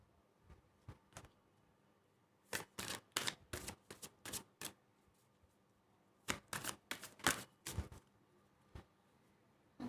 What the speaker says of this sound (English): So, I need to shuffle the cards.